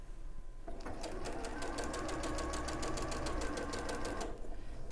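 A sewing machine runs steadily, stitching along the final seams of a patchwork peony panel with a pocket, a fast even mechanical whir that starts after a brief pause and holds close and loud.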